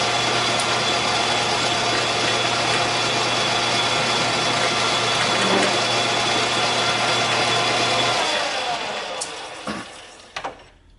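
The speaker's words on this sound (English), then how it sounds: "I'll just go ahead and chamfer the outer edge here quick." A lathe chamfers the outer edge of a steel adaptor for a 50-ton Porta Power ram, a steady motor hum with cutting noise, close by, winding down near the end with a few clicks.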